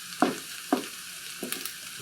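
Eggs stirred and turning softly in a pan for Tex-Mex chicken fried rice, a faint sizzle under a few distinct scraping stirs, each short and close with quiet pauses between.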